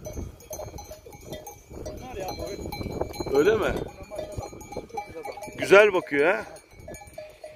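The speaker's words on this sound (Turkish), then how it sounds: "Romanya koyun dediğim bu ha" A Romanian-breed sheep kept with a highland flock bleats a few times near the microphone, with cowbells clinking and men chatting throughout.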